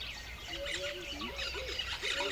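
Pigeons and other birds call deep in the Amazon forest, with soft low coos and scattered higher chirps over a constant hazy background, distant and faint throughout.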